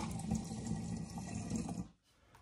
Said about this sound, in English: So I'm just going to wash my blender out. Just give it a rinse.